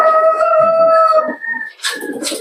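A gamefowl rooster at a loft lets out a single loud, close crow that trails off, followed by a short burst of clucking and rustling.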